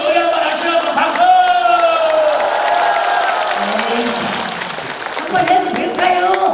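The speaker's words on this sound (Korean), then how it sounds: "우리 어머니 노래 한번 하시라고 박수!" Festival audience at an outdoor poom-ba street performance claps and cheers continuously, a steady mid-level wash of hands under loud music and talking voices.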